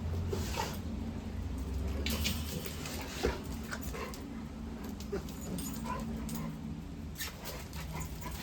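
A small dog whimpers and yips in short, high bursts through the clip, close by over steady background noise, with no talking.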